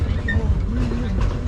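The steady low rumble of a theme park train at the Magic Kingdom rolling along with passengers on board, while a voice talks over the continuous ride noise.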